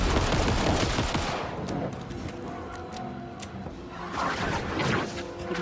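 Rapid bursts of gunfire from the video game Alan Wake 2, loud at first and then a run of sharp, evenly spaced shots over a dense game backdrop. No one speaks.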